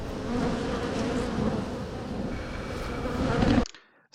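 Swarming bees buzz steadily around an outdoor catio, a dense continuous drone close to the microphone that holds at even strength before cutting off abruptly near the end.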